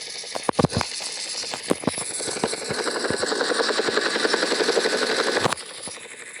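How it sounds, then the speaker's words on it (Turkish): A helicopter from the video game GTA San Andreas whirs steadily with a loud, continuous rotor drone, punctuated early by a few sharp clicks and thumps, and cuts off abruptly near the end. "Bir de Paraşütle helikopterimize binip aşağı atlayalım."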